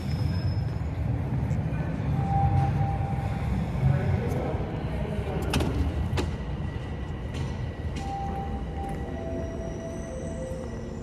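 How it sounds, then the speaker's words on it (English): Low rumbling of an eastbound Toronto TTC subway train arriving at Bessarion Station, with brief clanks and a few tonal squeals, a steady mechanical roar throughout. "Oh, and now here comes an eastbound train."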